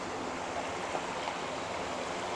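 River water diverted from a weir rushes steadily into the inlet of a fast-flow pomfret fish pond in Bogor, giving a close, continuous broadband wash with no voices over it.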